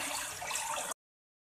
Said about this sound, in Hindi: एक बार इसके अंदर हम लोग पानी डालने वाले हैं, मैं पानी लेकर आता हूँ, इसमें पानी डालना शुरू करते हैं।